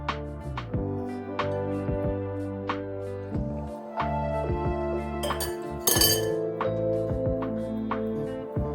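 A whisk clinks and taps steadily against a bowl as milk is mixed into a chocolate pudding mixture, a close, continuous run of ringing clinks with no talking.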